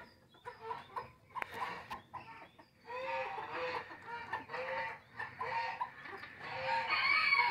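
Roosters and hens in a farmyard cluck and crow, several birds calling in irregular bursts, with drawn-out crows rising near the end, fairly close and clear.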